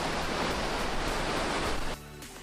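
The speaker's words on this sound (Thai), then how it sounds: "ด้านหลังของเราก็เป็นน้ำตกโยงครับผม" Yong Waterfall in Nakhon Si Thammarat, Thailand, pours in a dense, steady rush of water for about two seconds, then cuts off abruptly, leaving a fainter tonal sound.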